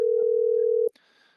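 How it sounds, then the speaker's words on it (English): A steady telephone tone while a call connects, a single continuous pitched tone lasting under a second that cuts off abruptly, followed by faint line noise. "Can you hear the ringing? I can hear it dialing in."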